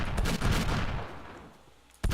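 Revolver shots from Ferullo's Guns mod in Minecraft: loud, sharp synthetic gunshots, one at the start with a long fading tail and a second abrupt shot near the end.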